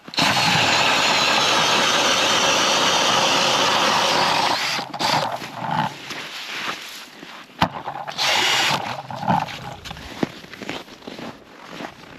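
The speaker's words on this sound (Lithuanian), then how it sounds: "Einam gręžti." A power drill whines loudly and steadily for several seconds while drilling a hole in lake ice, then stops and restarts in shorter bursts, with rattling and scraping between runs.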